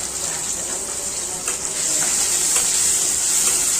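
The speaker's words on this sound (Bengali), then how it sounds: "কয়েকটা পনিরের টুকরো দিয়ে দেব।" Paneer pieces frying in a pan with vegetables, a steady bright sizzle that grows slightly louder partway through, with faint stirring taps underneath and no voices.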